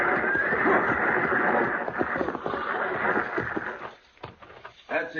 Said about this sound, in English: Driving a 6-horse hitch ought to keep him awake.